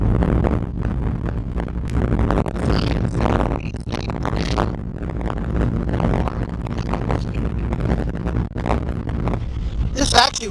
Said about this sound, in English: with the wind blowing like crazy, keeping you cooler